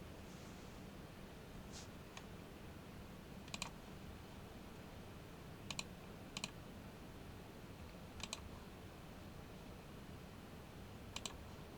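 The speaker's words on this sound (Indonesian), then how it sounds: "cara mengaksesnya itu dengan mengetik IP address yang server HTTP tadi itu" Keys on a computer keyboard are tapped in short, sparse bursts of a few clicks each, spaced a couple of seconds apart. The taps are faint and crisp over a quiet, hissy room background with no talking.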